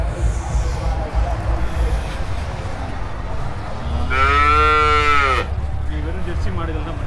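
A Jersey cow at the Anthiyur cattle market gives a single loud, drawn-out moo lasting over a second, close by, amid the noisy market bustle and people talking.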